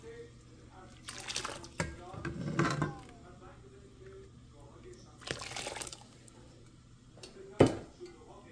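Cooked rice drained through a colander in a home kitchen: water splashes and pours in a few short bursts with light clattering, over a quiet background hum.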